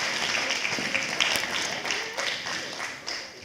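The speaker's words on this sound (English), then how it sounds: "Can we give them a big round of applause, please?" Steady applause from the crowd at a school STEM showcase, continuous clapping at moderate distance with a few sharper claps standing out.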